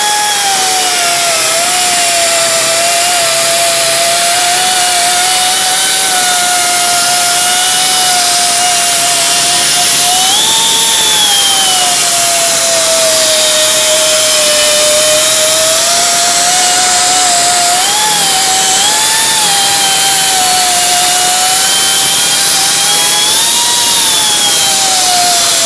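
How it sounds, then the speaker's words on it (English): An angle grinder works over a Mk4 car body panel, a loud, steady, high-pitched motor whine laced with harsh grinding hiss that runs nonstop for about 26 seconds, with small pitch dips as the load changes and no talking. "now John can go through and grind."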